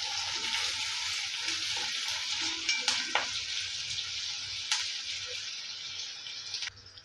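Crushed onion, garlic and curry leaves frying in a pan for a potato fry, a steady loud hiss of hot oil with a few scraping stirs and clinks over it, no talk.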